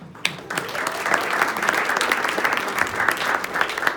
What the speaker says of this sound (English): So I would love for a big round of applause for everybody in this room